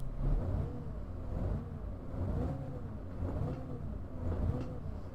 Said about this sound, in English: Let's get this engine on.